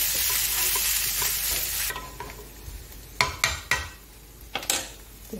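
Onions fry in oil in a pan with a steady close sizzle, followed by several sharp scraping knocks of a spoon stirring against the metal.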